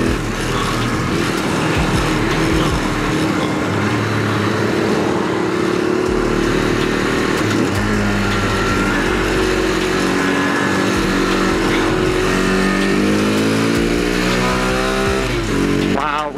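A small Honda Grom clone motorcycle engine revs repeatedly, pitch climbing and dropping through the gears, loud and close with a buzzy, rough tone.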